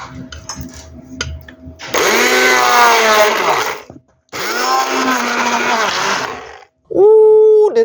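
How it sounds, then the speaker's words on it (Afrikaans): An electric mixer whirs loudly up close through a batch of avocado with lemon juice, salt, paprika and pepper, running in two long bursts separated by a brief pause, then starting again briefly at the end. "en dit meng met die menger"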